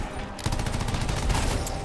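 Rapid gunfire from a sniper and other weapons in the online shooter Anthem, a dense continuous barrage of loud shots with a few heavier blasts, played alone without talk.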